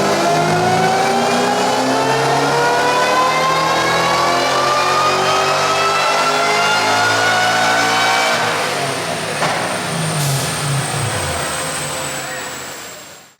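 Eaton-supercharged engine in a Mach 1 on Holley EFI running E85, revving hard on a dyno pull with spark plugs gapped tighter; a loud, steadily rising engine roar with whine harmonics climbing for about ten seconds before tapering off.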